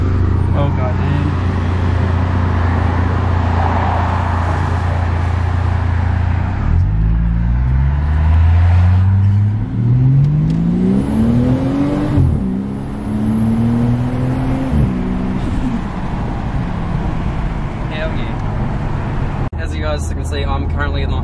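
A turbocharged Ford Falcon accelerates hard through rising gears with a loud, climbing engine tone, and people talk over it now and then.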